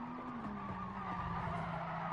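A GR Supra GT Cup race car in Gran Turismo Sport brakes hard into a corner, its tires squealing in a sustained, falling whine over the engine roar, fairly loud and close.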